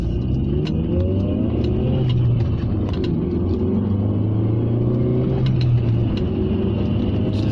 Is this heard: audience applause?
no